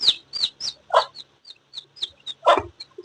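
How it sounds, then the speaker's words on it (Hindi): Hen clucking and calling for her chicks in a rural yard: a string of short, rhythmic clucks with a couple of louder, lower calls mixed in, close and clear with no talk. "कुकड़ी रो रही है चूजों के लिए"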